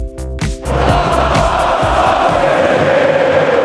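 Cruzeiro fans in Mineirão stadium celebrate a 1-0 win over Brusque with a dense, loud roar of cheering and chanting that swells and holds after a brief tonal opening, close and continuous.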